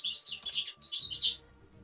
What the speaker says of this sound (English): the bird's so loud